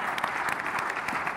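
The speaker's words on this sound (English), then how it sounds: "Round of applause, everybody." An audience claps for a panel at a plenary session, a brief burst of dense steady applause from a crowd in a hall.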